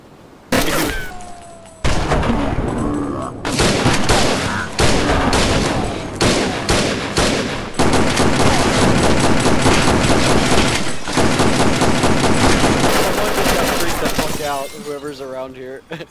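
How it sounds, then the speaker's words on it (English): Heavy gunfire from several rifles in the DayZ video game, a dense chaotic barrage of overlapping shots and bursts lasting many seconds, loud and close, with a voice talking over parts of it. "They heard seven different rifles."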